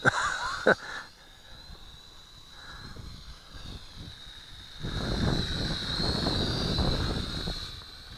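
A Syma X5C quadcopter drone flies outdoors with a thin, high rotor whine, faint at first and then under a swelling rush of wind buffeting the microphone.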